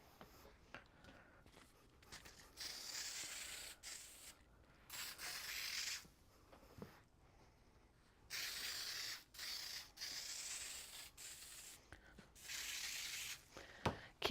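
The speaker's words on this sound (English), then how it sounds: "Keep getting air and not any starch because the can is getting a little low." Spray starch from a nearly empty can hisses out in several separate bursts of thin, airy spray during quilting, with quiet rubbing and handling noises between the bursts.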